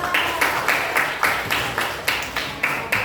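A classroom of students at a junior high school claps for a classmate in unison, about three sharp collective claps per second, loud and evenly paced.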